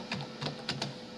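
Keys tapped on a computer keyboard during an online search, a few quick clicks in short bursts, close and fairly quiet with no talking.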